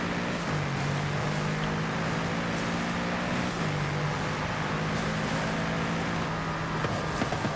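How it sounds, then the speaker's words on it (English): A naturally aspirated V8 car engine in the Forza Horizon 5 racing game holds a loud, steady high-revving drone, its pitch stepping down briefly at a couple of gear shifts while driving. "naturally aspirated V8 that just likes to rev, man"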